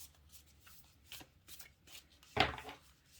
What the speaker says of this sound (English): So let me pull a Moonology Oracle card for us.